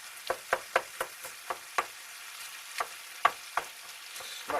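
Plum tomatoes from a tin being smashed and stirred into a bolognese sauce in a pan, giving a series of short, separate knocking and scraping strokes over a soft, steady sizzle, with no talking.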